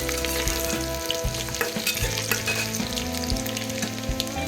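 Chopped garlic cloves frying in hot oil for a fish curry, a loud continuous crackling sizzle with occasional stirring clinks, close and steady with no talking.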